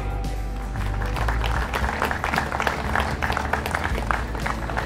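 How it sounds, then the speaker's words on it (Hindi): Audience applause welcoming chief guest O.P. Dhankar at a World Premier League event at WCTM, Gurgaon, a dense, steady wash of clapping from a crowd that carries on throughout with a low rumble beneath it. "तालियों की गड़गड़ाहट प्रस्तुत करें हमारे मुख्य अतिथि जी को और तालियों के साथ हम भी स्वागत करें इन क्षणों का"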